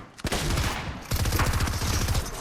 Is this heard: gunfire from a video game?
yes